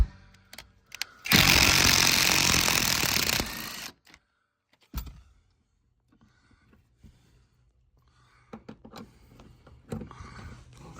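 An impact gun burst loud and close for about two seconds as a 15 mm seat bolt comes out of a Chevy or GMC truck, followed by a short second burst and quieter metallic clinks of the bolt and tools.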